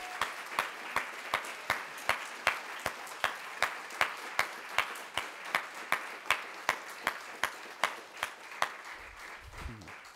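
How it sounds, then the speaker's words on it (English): A small audience at an international students' graduation claps in a loose, spaced rhythm of distinct individual claps for about ten seconds, fairly close, with no talk over it. "let's give them and ourselves a round of applause"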